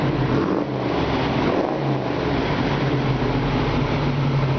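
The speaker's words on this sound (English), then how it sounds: "Got a really, really good sounding exhaust." A 1959 Corvette idles and revs, its exhaust giving a loud, steady low rumble with a brief throttle blip, close by and without talk.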